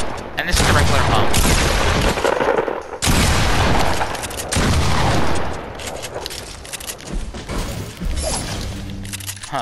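Pump shotgun firing in the Fortnite video game, loud booming blasts followed by long crackling, shattering tails, several heavy bursts in a row before fading to quieter mechanical clatter, with voices faintly underneath.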